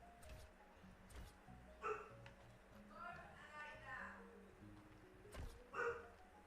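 A dog barks a couple of times in the background, faint and intermittent beneath quiet talk and computer game sounds.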